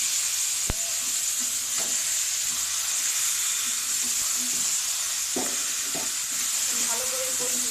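Marinated duck meat with onion and tomato sizzles steadily in a pan, a bright hiss running throughout, broken by occasional clacks and scrapes of a stirring spatula.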